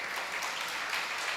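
Soft, sparse clapping from an audience at a religious discourse, thin and quiet, rising and falling in small bursts.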